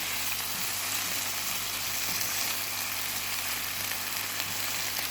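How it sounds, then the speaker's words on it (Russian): Tomatoes seasoned with salt, black pepper and red pepper fry in a pan with a steady, dense sizzle and crackle that runs evenly throughout, close and alone with no voices. "Потом перемешиваем наши помидорки."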